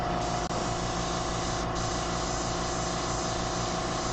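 Steady hiss of an aerosol paint can held on continuously, a broad airy spray running unbroken and close-up with a faint mechanical hum beneath, no talking.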